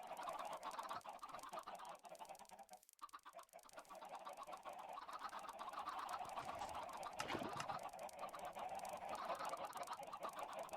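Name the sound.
chickens at a chicken farm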